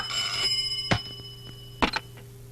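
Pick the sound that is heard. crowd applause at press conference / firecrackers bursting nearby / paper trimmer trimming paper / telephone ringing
telephone ringing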